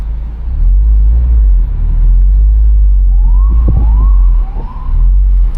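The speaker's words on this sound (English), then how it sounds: "Look how much of the police is just constantly going by, dude." A police car siren in the Bronx sounds a few rising wails that sweep up over steady, loud street and engine rumble, fairly close but brief.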